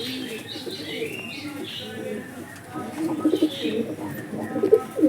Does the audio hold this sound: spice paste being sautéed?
no